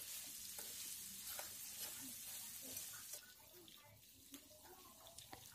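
Pork pieces frying in a pan for a pork roast, a steady, fairly faint crackling sizzle with occasional stirring clicks, easing off partway through.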